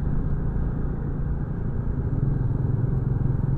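A Royal Enfield motorcycle engine rumbles steadily and close while downshifting into a turn, a continuous low drone with slight rhythmic pulsing and no talk.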